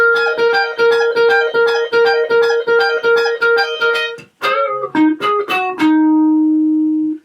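A guitar phrase from a song's solo: quick repeated picked notes, then a few sliding, bent notes ending on one long sustained tone, played solo and loud.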